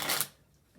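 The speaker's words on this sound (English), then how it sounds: "shuffles the cards by using the table to straighten them up" Playing cards riffle and are tapped square against a table, a brief close broadband shuffle that fades into quiet room tone within a second.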